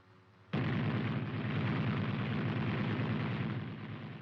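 Caliber .50 machine gun fired from a tank's cupola, a sudden loud burst of rapid fire that continues as a dense, rattling roar for several seconds with no voices.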